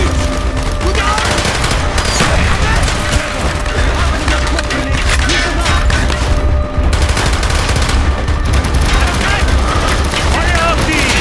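Continuous gunfire in Call of Duty Black Ops, dense rapid rifle and machine-gun bursts with splintering impacts, loud and unbroken under shouted German voices.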